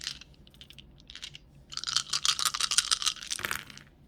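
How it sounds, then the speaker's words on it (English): Small astrology dice rattle and click as they are shaken and rolled, a quiet run of light tapping that builds into a busier clatter before fading, with nothing else in the background. "Let's grab the Astro Dice first,"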